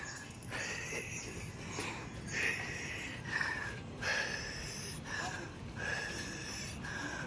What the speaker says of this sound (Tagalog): Hingal na ako guys.